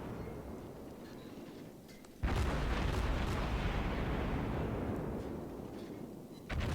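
Naval guns firing in World of Warships, heavy booming bursts that start abruptly and roll on continuously as a dense, loud barrage before a fresh blast near the end.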